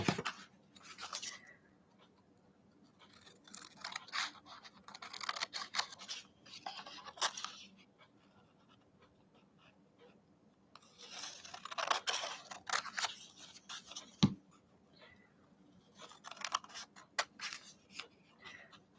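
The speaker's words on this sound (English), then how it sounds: "Let's just pop it down here and I'll cut all the way around it" Scissors snipping all the way around a sheet of decorative patterned paper for card making, in short bursts of close, crisp cutting separated by pauses, with no talking.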